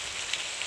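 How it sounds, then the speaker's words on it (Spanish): A heavy downpour in Florida falls steadily and densely, a continuous close hiss of rain on surfaces with a couple of faint drip accents. "Miren cómo está del aguacero."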